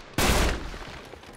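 A single sharp gunshot in the Uncharted 3: Drake's Deception video game, loud and close with a booming tail that fades over about a second.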